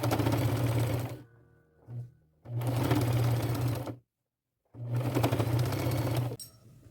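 A sewing machine stitches pinch-pleated fabric ruffles down the center, with three loud bursts of rapid mechanical whirring separated by short pauses.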